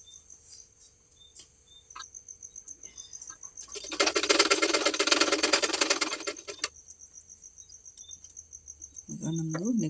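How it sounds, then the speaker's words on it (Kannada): A sewing machine stitching lace onto a blouse runs in a steady rapid whirring burst for about three seconds, close and clear, amid quiet room sounds with a high tonal hum. "ಈ ಲೇಸ್ನ ಕೊನೆಯಲ್ಲಿ ಸ್ವಲ್ಪ ಫೋಲ್ಡ್ ಮಾಡಿ ಒಂದು ಸ್ಟಿಚಿಂಗ್ ಹಾಕ್ಕೋಬೇಕು."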